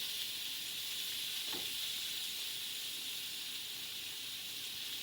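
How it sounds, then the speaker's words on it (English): Maitake mushrooms sizzle steadily in melted butter in a pan, a constant close hiss of frying with one brief soft clink partway through. "These are frying up really nice."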